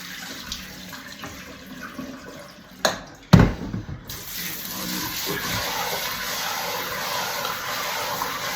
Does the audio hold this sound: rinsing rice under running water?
yes